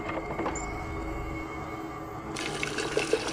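Water runs steadily from a tap at a low level, joined partway through by a brighter splashing gush; no talking.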